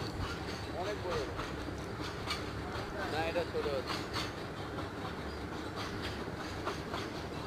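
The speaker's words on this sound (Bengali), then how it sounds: "আমি মনে হয় আমার লাইফে ফার্স্ট দেখলাম এত বড় ট্রেন" A very long freight train passes nearby, with continuous rolling rumble and rhythmic clickety-clack of wagons and occasional faint wheel squeals, while a voice speaks over it.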